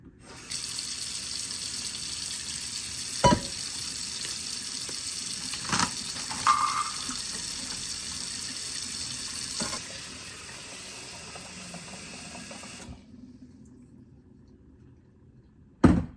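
Hot water runs from a kitchen tap into a bowl to soak pecans, a steady bright hiss for about twelve seconds with a few clunks, then the flow stops and leaves quiet before a final knock.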